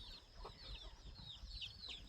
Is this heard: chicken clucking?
yes